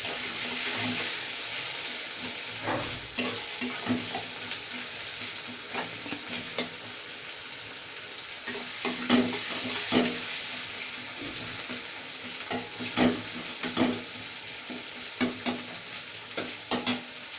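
A medium-large onion fries in a pan for chicken kosha, a steady close sizzle with intermittent scraping stirs and clinks of the utensil against the pan, no voices.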